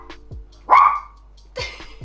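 A dog barks nearby in a home, giving a couple of sharp, loud barks about a second apart with a faint whimpering yip before them.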